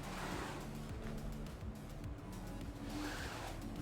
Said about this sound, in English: Or is it a car outside?